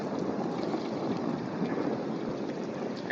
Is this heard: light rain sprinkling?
yes